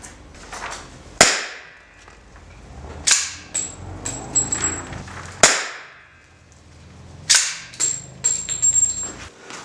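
A gun fires wax bullets from the hip, sharp loud cracks spaced a few seconds apart, each followed by brief clattering and handling noise.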